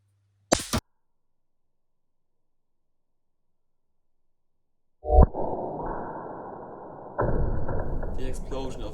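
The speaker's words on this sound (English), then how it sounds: "I will show you a tiny explosion of nitrogen triiodide" Tiny nitrogen triiodide explosions: a brief sharp snap, several seconds of silence, then a louder crack trailing into sustained noisy rustling.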